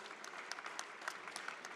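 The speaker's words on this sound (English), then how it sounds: "Je pense qu'on peut applaudir." Audience at an international conference on productivity and carbon balance applauds after a talk: steady, distant-sounding clapping from many hands, fairly faint and uninterrupted by speech.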